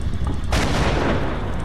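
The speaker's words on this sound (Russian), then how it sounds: "Отличная стрельба." A tank cannon fires once in the tank battle game Infinite Tanks, a sudden loud boom that bursts out and rolls on into a sustained roaring decay.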